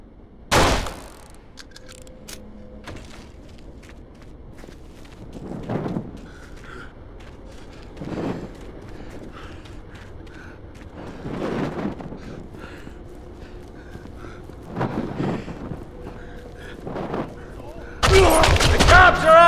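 Gunfire rings out in a Kane & Lynch 2: Dog Days shootout with cops, as scattered single shots and bursts at varying distances sound over a low ambient bed, ending in a loud, dense flurry.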